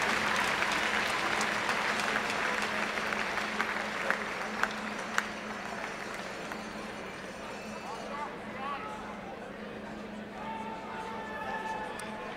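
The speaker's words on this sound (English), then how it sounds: "Let's give them a round of applause for these outstanding student achievers." Hockey game audience in an arena applauding student achievers, a broad sustained clapping wash with scattered sharper claps, fading toward the end as an announcer's voice emerges.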